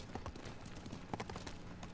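In Ghost of Tsushima, horse hooves clop at a steady quick pace, faint and somewhat muffled beneath a dense wash of game ambience and noise.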